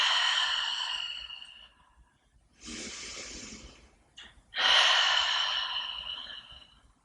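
Long audible exhales during a yoga compression pose, three breaths separated by short pauses, each a soft airy rush that tapers off, close and fairly loud with no talking.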